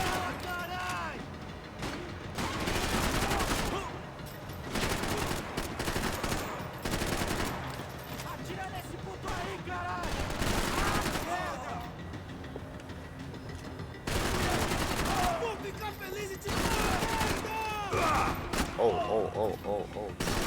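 Gunfire fills a firefight in the video game Max Payne 3, with repeated bursts of loud shots and rapid fire alternating with brief lulls, while a player talks intermittently over the action.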